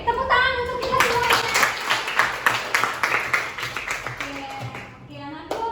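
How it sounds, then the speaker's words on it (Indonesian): A classroom of pupils clapping for everyone during an Indonesian-language lesson, a run of uneven, rhythmic claps mixed with children's voices and a teacher talking over them. "tepuk tangan untuk kita semua"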